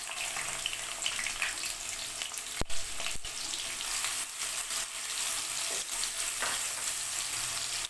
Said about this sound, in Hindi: थोड़ा सा प्याज को फ्राई कर लें।